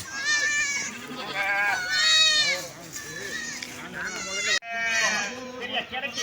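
Goats at a large goat farm bleat repeatedly, several loud, wavering calls overlapping one another close by, while someone talks over them.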